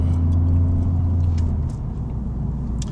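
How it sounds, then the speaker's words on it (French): Honda Civic Type R FL5 exhaust heard from inside while driving: a steady low droning rumble with road noise, fairly loud and continuous, with no talking. "Puis on entend vraiment bien l'échappement,"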